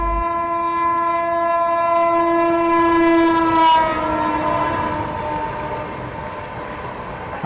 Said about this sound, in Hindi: ये मेरे ख्याल से पुरुषोत्तम एक्सप्रेस है जो हमें ओवरटेक कर रही है अभी।